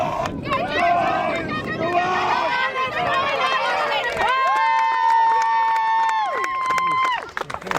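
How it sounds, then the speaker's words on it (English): A crowd at an outdoor charity running event cheers and shouts encouragement to a runner named Alex, with loud, close voices and whoops overlapping throughout amid general babble. "Just cheering on Alex."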